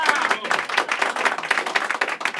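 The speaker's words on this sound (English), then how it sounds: "I reckon you deserve a round of applause" A studio audience at a live quiz show breaks into a round of applause, dense steady clapping sustained throughout at moderate loudness with no pause.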